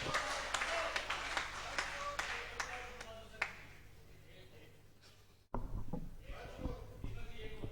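A live kavi sammelan audience applauds to welcome a veer ras poet, with scattered claps ringing out over an announcer's voice, then thinning out before a burst of stage noise and talk.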